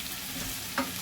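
Chicken and mushrooms frying in a pan make a close, steady sizzle for about a second, broken by one quick stir or scrape near the end.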